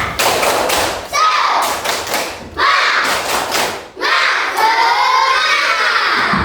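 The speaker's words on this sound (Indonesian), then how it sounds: "Tapi ayo tepuk semangat dulu." A classroom of students doing a rhythmic spirit clap, loud close bursts of hands and thumps in quick patterned groups, mixed with children shouting and chanting along.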